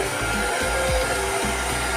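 A hotel room's hair dryer blows in a steady, loud whooshing roar close up, its motor hum pulsing slightly as it is moved about, with no voices.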